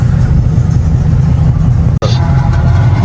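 A loud Dodge Scat Pack in Detroit booms with a deep, continuous engine roar close to the microphone, with one very brief dropout partway through and no talking.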